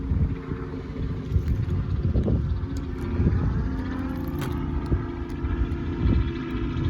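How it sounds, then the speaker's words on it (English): A low, steady rumble of a helicopter passing overhead, droning continuously with faint wind noise and no voices. "there's a bloody helicopter"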